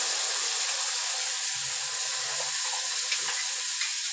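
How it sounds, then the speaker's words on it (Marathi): Steady hiss and sizzle of masala frying in a pan over a low flame, continuous and fairly loud throughout, with faint stirring near the end and no voices. "तर आपण इथे घेतला मी मसाला तळून"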